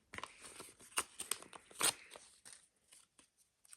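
Paper from a KFC takeaway bag tears in several short, crisp rips and crinkles, close and fairly quiet, with brief pauses between bursts and no talking.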